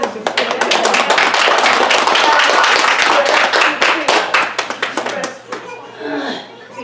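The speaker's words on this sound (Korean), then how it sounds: "박수! 환영 박수!" A church congregation gives welcoming applause, dense close clapping that fills most of the stretch, then thins into scattered claps with light chatter and a voice mixed in.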